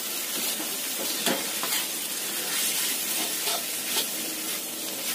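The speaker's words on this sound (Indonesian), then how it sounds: "Terakhir kita tambahkan daun bawang dan daun seledrinya. Aduk rata." Fried rice and noodles with spring onion and celery are stirred in a hot pan, a loud continuous sizzle and hiss with repeated scraping strokes of the spatula, close up and without talking.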